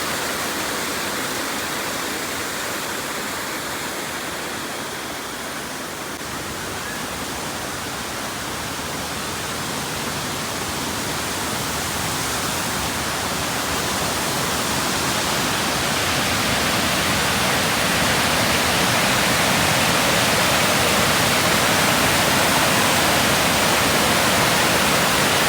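A waterfall at Maramec Spring park roars in a dense, steady rush of falling water, continuous and close, growing slightly louder over time with no voices.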